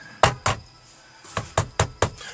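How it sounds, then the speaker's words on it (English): A fist bangs on an office door in two loud knocks, a short pause, then a faster run of four heavy knocks, close and hollow with no talk. "Stop banging on my office door."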